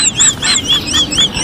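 Chickens squawking at feeding time, with a rapid series of loud, close, high-pitched calls in a quick, uneven rhythm and no talking.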